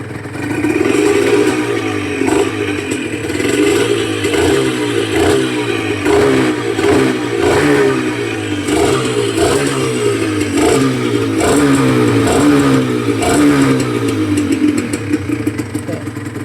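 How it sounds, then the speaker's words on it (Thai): Honda NSR150SP two-stroke motorcycle engine, freshly rebuilt with noise from the cylinder, revving repeatedly in short bursts, a rough buzzing note rising and falling in a steady rhythm, close and loud. "เดี๋ยวเร่งฟังเสียงเบาๆครับ"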